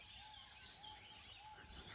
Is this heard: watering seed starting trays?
no